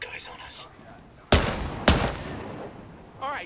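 Gunfire in the Ghost Recon Breakpoint tactical shooter game, with two loud, close shots about half a second apart against quiet background ambience, followed by faint radio-style chatter.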